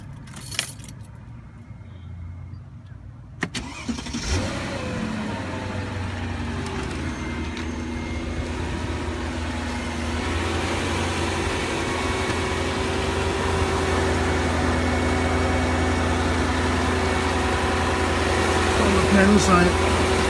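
A Mercedes with ABC hydraulic suspension cranks after a jangle of keys, then settles into a steady, loud idle that holds and builds slightly for nearly twenty seconds.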